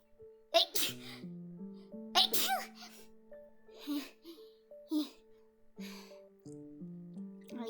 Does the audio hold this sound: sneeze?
yes